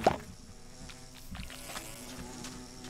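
A bee buzzes in the video game Minecraft, a faint soft hum lingering low beneath a quiet game background, with no one speaking.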